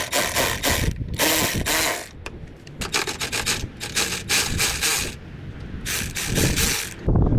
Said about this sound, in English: this is actually the first job I'm able to use my new Milwaukee power ratchet on